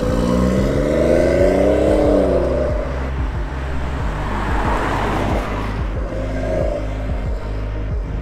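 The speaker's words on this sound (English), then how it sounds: "let's jump in the car, go for a spin" A BMW M140i drives and accelerates from inside the cabin, its engine note rising and falling in steady sweeps over continuous road rumble, loud and close with no talk.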